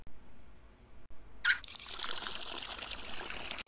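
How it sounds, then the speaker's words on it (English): A kitchen tap is turned on in a video game, with a brief click followed by a steady stream of running water splashing close by, continuous to the end. "He turned on the tap"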